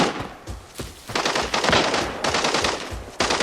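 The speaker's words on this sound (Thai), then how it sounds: "ดูจากท่าทางการยิงแล้วน่าจะรวยกระสุนครับ รอสไม่พักเลย" Automatic weapon fire in the Arena Breakout shooter game, long rapid bursts of gunshots rattling close and loud, with brief pauses between volleys.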